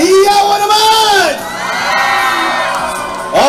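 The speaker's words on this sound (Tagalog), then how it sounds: "Alaminos Pangasinan, hiyawan naman!" A crowd at the Ginuman Fest live event in Alaminos, Pangasinan shouts and cheers loudly, with high voices wailing together in long rising and falling calls, dipping in the middle and then surging again at the end.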